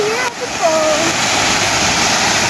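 At Salurayan resort in Bukidnon, a waterfall roars steadily and loudly, a dense, constant rush of falling water up close. A brief whistle-like tone is heard near the start.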